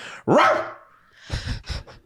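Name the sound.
person imitating a dog barking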